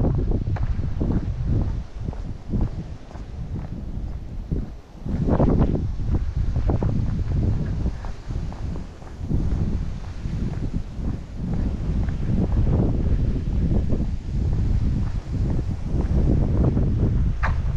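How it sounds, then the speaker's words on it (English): Strong wind blows across a microphone outdoors at Manhattan Beach, a loud, continuous rumbling buffet with gusty swells and brief lulls, filling the whole stretch with no one talking. "Wind has really picked up."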